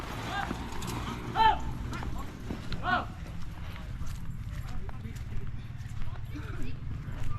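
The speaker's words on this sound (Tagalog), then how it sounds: "mabilis talaga tong kalabaw na to" A water buffalo (carabao) runs during race practice, its hooves thudding in a quick, steady rhythm on the ground. Voices and background chatter continue throughout.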